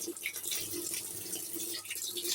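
Water poured into a washing machine drum during a cleaning cycle, a steady splashing, gurgling flow heard up close with no talk.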